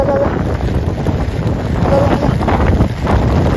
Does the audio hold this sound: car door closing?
no